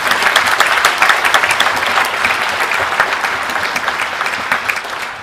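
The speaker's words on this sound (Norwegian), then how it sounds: "nå kan du få en ordentlig runde applaus" A concert audience gives a drummer a hearty round of applause at a veteran band's anniversary concert, dense close clapping that stays loud and steady before tapering slightly toward the end.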